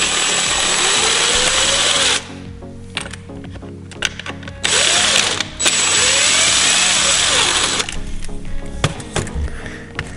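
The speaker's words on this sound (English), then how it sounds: "Then we have 2 screws on the motor mount to remove." Power screwdriver whirring in close bursts while backing two screws out of a Traxxas RC car motor mount, with short pauses between runs and a faint voice briefly audible.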